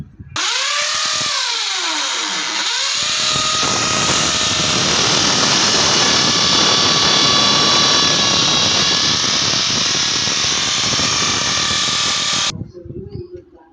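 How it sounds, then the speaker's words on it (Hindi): Electric drill boring a hole into a wall, with a brief spin-up followed by a loud, sustained high whine that runs about ten seconds before stopping abruptly. "तो चलिए अब दीवार में होल गिराते हैं।"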